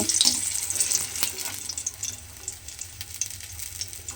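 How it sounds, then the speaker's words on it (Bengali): Cauliflower-leaf pakoras fry in hot oil on low heat, giving a steady, close crackling sizzle with occasional brief clinks and stirring noises. "গ্যাসটা লোতে দেবেন, দিয়ে একটু সময় নিয়ে একটু উল্টে পাল্টে পকোড়াগুলো ভেজে নিতে হবে"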